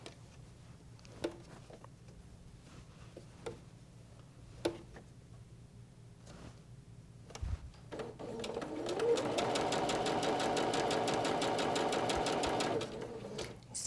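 Domestic sewing machine stitching quilt fabric pieces for flying geese blocks: a few soft ticks and clicks, then a close, steady rapid whirring run of several seconds that stops abruptly, with no talking.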